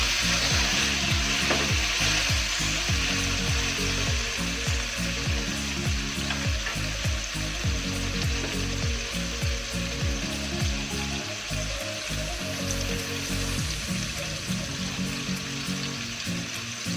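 Tofu cubes fry in hot oil in a pan with baby squid about to be added. A steady, dense sizzle and crackle runs throughout at close range, with rhythmic low knocks and scraping from stirring.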